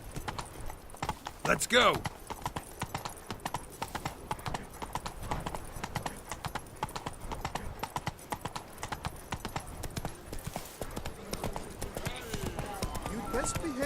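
Roach, the horse in The Witcher 3, gallops with a quick, rhythmic clip-clop of hooves, close and continuous, while a voice calls out briefly over the hoofbeats.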